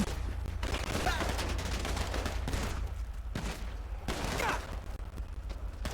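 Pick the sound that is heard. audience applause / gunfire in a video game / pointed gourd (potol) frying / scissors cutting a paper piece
gunfire in a video game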